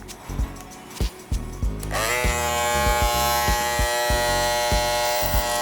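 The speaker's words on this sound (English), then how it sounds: "So now we'll be doing the clipper over comb process" A hair clipper working clipper-over-comb during a low skin fade haircut: a few light clicks, then the clipper switches on and hums steadily and close, with small rhythmic bumps as it passes over the comb.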